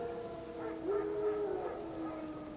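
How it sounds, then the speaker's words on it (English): Wild dogs howl in The Witcher 3 game: drawn-out, wavering tonal howls rising and holding over a low ambient background, loud and fairly near, with no talk. "No. Wild dogs."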